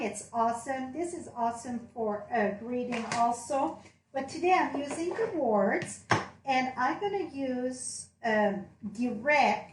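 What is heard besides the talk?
None of the usual background noises is heard.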